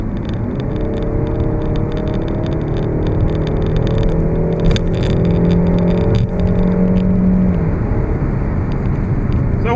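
Peugeot 5008 GT Line with the 1.6 THP petrol engine and EAT6 automatic, driving along a country road: a steady engine drone and tyre-road rumble that stays loud and even throughout, with no talking.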